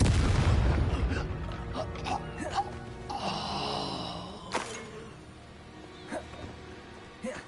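Blasting spell explosion in Hogwarts Legacy, a deep booming burst up front that fades into rumble, followed by scattered smaller impacts and game effects.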